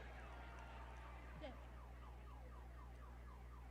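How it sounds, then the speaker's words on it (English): Car alarm whooping in the background, a faint repeating rising-and-falling siren pattern cycling steadily beneath a constant low hum, distant and quiet. "You can hear a fucking car alarm in the background."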